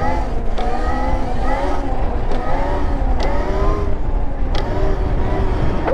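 An electric dirt bike with a clutch and gears rides with a steady electric motor whine whose pitch rises and falls through the run, loud and close under wind noise, with a few short sharp clicks.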